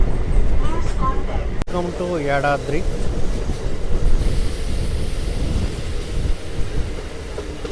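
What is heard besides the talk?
MEMU passenger train running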